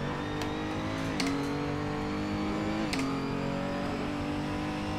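Simulated RS01 Trophy race car in Assetto Corsa at Mugello, its carbon-fibre monocoque car giving a steady, loud engine drone with sharp upshifts near one and three seconds as the pitch climbs again, no voices.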